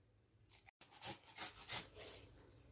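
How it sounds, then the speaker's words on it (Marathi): Carrots being grated by hand for carrot halwa, a series of rhythmic scraping strokes, about five rasping passes close to the microphone after a brief pause. "सगळी गाजरे किसून घेऊया छानपैकी."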